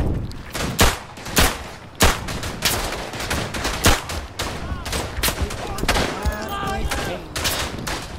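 Rapid gunfire from a gun hip-fired across a trench in a video game, loud close bursts and single shots cracking out repeatedly over a busy battle din.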